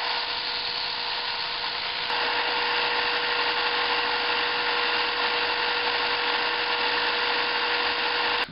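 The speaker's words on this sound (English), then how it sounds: "I left a little space, so now I'll sand it to the line." Power sander grinding a plastic cup-holder part for a lawn chair down to a marked line, a steady, continuous buzzing drone that grows slightly louder after a couple of seconds and runs unbroken to the end.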